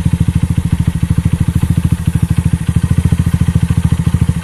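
A Honda New Megapro motorcycle with an R9 Valencia aftermarket exhaust idles loudly with a deep, throaty, bassy exhaust, its lumpy pulses thumping in a fast, even rhythm throughout.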